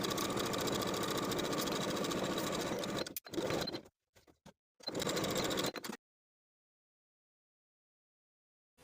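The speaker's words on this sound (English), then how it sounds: "We'll sew from the bottom of the dress with a 5/8 inch seam allowance to the dot." A sewing machine runs a 5/8 inch seam up from the hem of a vintage 1960s step-in dress, whirring steadily for three seconds, then stopping and restarting in short stop-start bursts before going silent.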